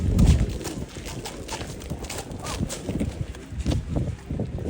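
Comtois draft horses from Franche-Comté, chestnut-coated, walking at a horse fair presentation, with moderately loud, irregular hoof clops on the ground over a busy outdoor background.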